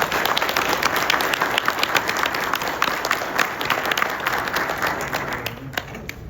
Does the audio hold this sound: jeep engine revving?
no